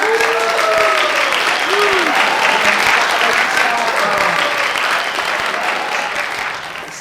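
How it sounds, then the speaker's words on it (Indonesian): A studio audience at an Indonesian talk show claps loudly and steadily for several seconds, with whoops and excited voices rising through it before the applause slowly tapers off. "Tepuk tangan dulu dong buat kita."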